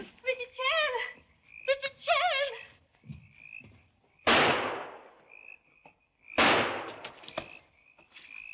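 Two loud, sharp gunshots ring out in a 1940 Charlie Chan mystery film set in Panama, each a sudden broadband crack with a short decay. Voices speak beforehand and a faint steady tone lingers in between.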